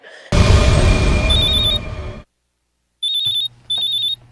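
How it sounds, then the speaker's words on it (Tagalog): A cellphone rings loudly, first as a long burst of electronic tone over a noisy passage, then, after a short silence, as two shorter repeated trilling rings. "Oh, ang akong cellphone."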